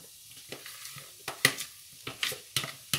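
Potatoes tipped into a frying pan of spiced chicken samosa filling and stirred, giving soft sizzling under a series of scraping, clattering spoon strokes against the pan at an irregular pace.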